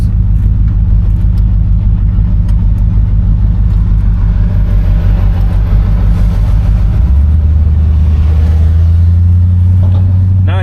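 A 1968 Buick Electra 225 accelerates while driving, its engine droning loud and close from inside the car, the low hum steady and then stepping to a new pitch partway through as speed builds toward 30, no talk.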